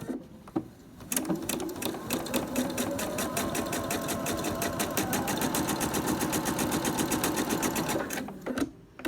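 Sewing machine stitching quilt binding on the diagonal, a fast steady mechanical chatter running about seven seconds without pause, close and clear, starting and stopping abruptly with no talk.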